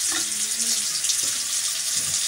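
A bathroom sink tap runs steadily while shaving cream is rinsed off, a loud, close, continuous rushing hiss with faint shifts as hands move through the stream.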